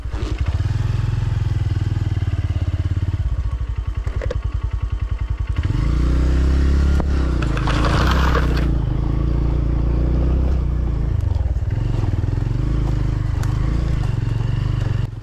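A motorcycle engine drones steadily while the bike rattles and clatters over a rough, bumpy, rocky mountain road in Indonesia.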